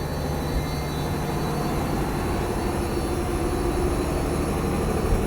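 John Deere diesel generators run in the engine room of a 146-foot Heesen superyacht, a loud, steady, droning engine roar with a low rumble and faint high whine, unbroken throughout.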